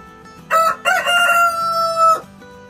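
A large white rooster crows once close by, a loud drawn-out call of about two seconds with a brief break early on, standing alone over soft background noise.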